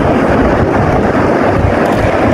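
Strong wind roars steadily into the microphone as a dense, rumbling wash of noise that stays loud and unbroken from start to finish.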